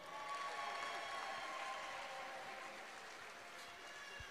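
Forlì supporters cheer and applaud at a study-incentive award ceremony, a steady, fairly faint wash of clapping and crowd noise that holds evenly throughout with no clear voices standing out.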